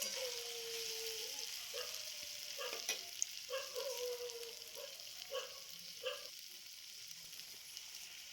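Masoor dal frying and being stirred in a pan: a steady soft sizzle runs throughout, with a few light scrapes and clatters of the spoon against the pan, close and without talk.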